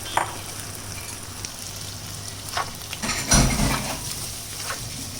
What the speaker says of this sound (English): Now we will be adding the teriyaki sauce